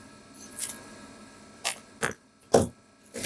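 Scissors or a cutter snip through a plastic Dollar Tree terrarium, several short crisp cuts spaced out with quiet gaps between them.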